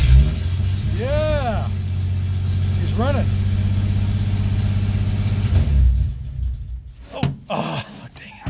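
An old Nash flathead six with a 6-volt positive-earth system runs at a steady, close idle for several seconds, then cuts out and leaves a few short bumps and voices.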